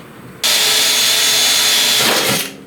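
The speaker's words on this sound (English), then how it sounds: "I'm gonna drill a couple more holes right in here to give me a couple more spots to pull." A power drill bores holes through the sheet metal of a badly dented 1969 Chevrolet C10 fender, making one steady, loud, high-pitched whine that runs for about two seconds before winding down.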